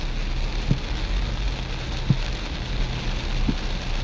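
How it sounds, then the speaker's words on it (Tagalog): Heavy rain pours steadily in a dense, constant roar, heard from inside a minivan on the road, with a few soft thumps now and then beneath it. "Grabe kay kalakas ng ulan guys."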